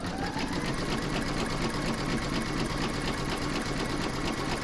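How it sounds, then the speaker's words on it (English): An embroidery sewing machine stitching a zigzag edge around a heart shape, running as a loud, steady, fast mechanical rhythm throughout, close and without talk. "you're going to pop that into your machine and stitch round number four"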